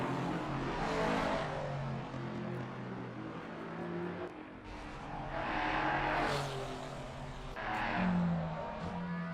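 Race cars in a sim racing video game drone and rev through the laps, their engine tones rising and falling in long sweeps, with occasional tire noise, loud and continuous and with no voices.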